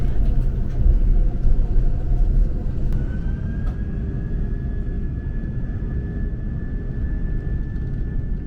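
Steady broadband roar inside the cabin of an Asiana Airbus A330-300 cruising from Tokyo to Seoul, loud and continuous throughout, with a thin sustained whine rising slightly partway through and faint talk-like murmur blended under the engine noise.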